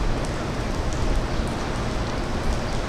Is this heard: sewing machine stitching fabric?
no